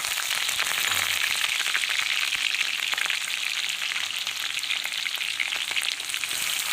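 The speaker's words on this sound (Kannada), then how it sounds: "ಈರುಳ್ಳಿ ಹಾಕ್ತೀನಿ." Chopped onion frying in hot oil in a home kitchen while a Kannada-style dal and amaranth-stem curry is being made, giving a steady, dense sizzle with constant crackle and no speech throughout.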